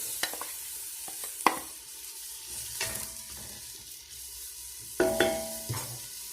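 Oil sizzles and crackles in a pan while food fries for tlitli in red sauce, a soft steady frying hiss broken by a few sharper pops and stirring clinks, with no talking.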